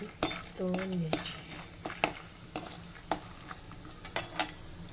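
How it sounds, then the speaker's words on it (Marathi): Peanuts frying in oil in a pan, heard as sharp, irregular clinks and scrapes of a stirring spoon against the metal over a faint background sizzle, with a brief tonal sound early on. "तेलामध्ये शेंगदाणे आधी तळून घ्यायचे"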